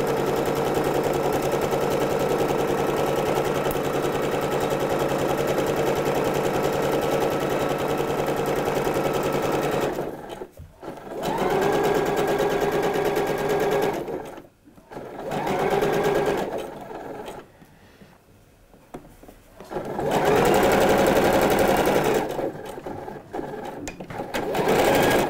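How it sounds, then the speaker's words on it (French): A sewing machine stitches a fabric seam 1 cm from the edge of a pair of shorts, running loud and steady in long buzzing bursts with brief pauses between runs. "Ma machine est enfilée, je vais pouvoir passer à la première couture qui se situe donc à 1 cm du bord."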